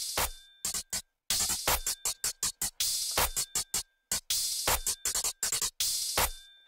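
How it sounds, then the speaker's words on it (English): A bouncy trap-style hi-hat and clap drum pattern plays alone, loud and close, with quick clustered hits and short gaps between bursts. "So very bouncy hi-hats"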